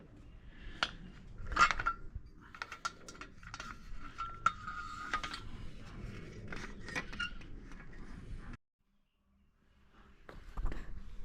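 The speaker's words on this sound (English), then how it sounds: "Once you get it all connected, just tighten down your bolts." Metal bolts being screwed in and tightened while an upgraded rear fender is refitted to an ENGWE Engine Pro e-bike, with close clinks, taps and small mechanical clatter for about eight seconds, then a short silence before a few more clicks.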